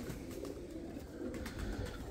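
Pigeons coo steadily in a breeder's loft in Bradford, UK, a continuous low murmur of overlapping calls at moderate distance with no voices present.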